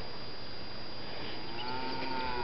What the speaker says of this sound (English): Miss Millie, she just got a look from the cow